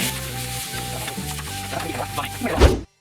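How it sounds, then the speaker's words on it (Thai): Meat being stir-fried in a pan for Thai basil stir-fry, close crackling sizzle with brisk stirring strokes, ending in a sharp clank before it cuts to silence. "ก็เลยให้รวนพวก เนื้อเนี่ยให้มันสุกก่อน"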